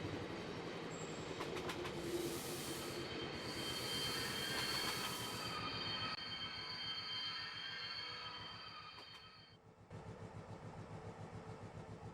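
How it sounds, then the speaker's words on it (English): Simulated train in the railroad game Infinite Rails rolling through a double-track crossing, with steady rumbling wheels, rhythmic clickety-clack and squealing continuing throughout, briefly thinning before resuming louder near the end. "now we're going to represent the train coming from the north heading south"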